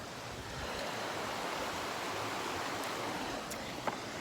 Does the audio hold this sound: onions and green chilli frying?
no